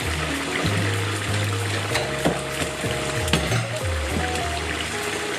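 Butter going into a hot pan sizzles and crackles steadily under clattering utensils and stirring, a busy close-up kitchen bed with scattered metallic knocks and no talk.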